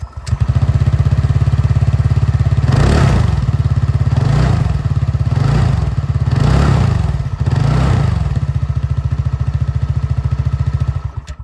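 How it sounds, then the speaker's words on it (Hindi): Exhaust of a TVS Ntorq 150 scooter idling close by, loud and steady, with four short throttle blips rising and falling before it settles and cuts off. "मैं आप लोग को यहाँ पर जो Ntorq 150 के एग्जॉस्ट साउंड है वो भी सुना दूँ"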